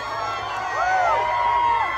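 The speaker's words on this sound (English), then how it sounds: "The crowd here going crazy for the former president." Supporters of Donald Trump cheering outside Carvel Ice Cream in Westwood, a lively crowd roar with high whoops and shouts rising midway, near and loud.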